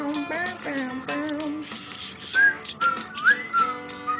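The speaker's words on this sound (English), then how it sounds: "for a shitty whistler, that was a good whistle." A person whistles a lively melodic tune, with clear bending pitches and quick runs, close and fairly loud, with no talking over it.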